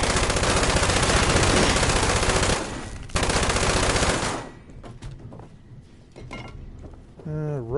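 Rapid automatic gunfire in the video game Fallout 76 rattles loud and continuous for about four seconds, breaks off briefly, then resumes before giving way to quieter game sounds and effects.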